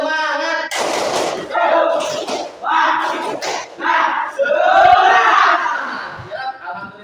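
A classroom of students stand for a rhythmic group ice-breaker, clapping in bursts and chanting loudly together. The clapping and chanting come in several energetic rounds and stay close and loud throughout.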